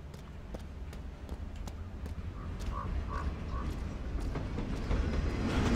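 Steady low rumble of a train passing in Life Is Strange, set in Oregon, building slowly in loudness with faint rhythmic clacks and a few tonal squeals over the wheel noise, no talking.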